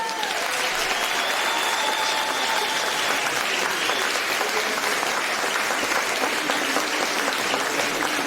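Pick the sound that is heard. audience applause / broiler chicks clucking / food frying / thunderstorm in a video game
audience applause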